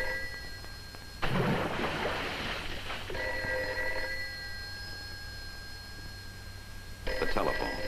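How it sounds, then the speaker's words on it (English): A telephone bell rings on the set of a 1955 Chevrolet sales training film, sounding in two loud bursts, one early and one near the end, over a steady hum with a few background sounds in between. "Of all the cockeyed times for the phone to ring."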